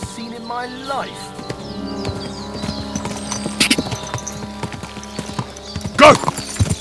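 Horse hooves clip-clop in a steady rhythm amid background music and effects in the video game Kingdom Come: Deliverance II, with a sharp burst near the end.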